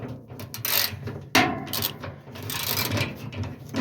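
Ratchet with a 3/8 socket working loose the screws on a Maytag washer's water pump, giving a quick series of close, dry mechanical clicks and scrapes with a few sharper knocks, no voice over it.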